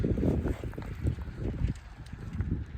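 Gusty wind buffets the microphone with low rumbling bursts, rising and falling continuously, loud and close.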